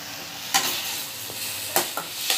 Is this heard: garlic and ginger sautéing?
yes